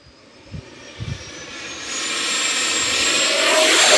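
An FMS F-18 70mm electric ducted-fan RC jet taking off, its high-pitched whine swelling steadily from quiet to loud and close after a couple of soft thumps at the start.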